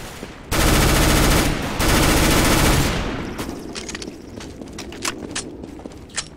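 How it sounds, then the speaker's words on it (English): Loud, close shotgun fire in a first-person shooter game, a heavy blast sustained for a few seconds and then fading into scattered sharp clicks and small impacts. "This sound is so loud when you headshot someone with a shotgun."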